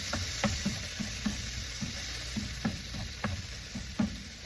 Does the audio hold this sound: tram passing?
no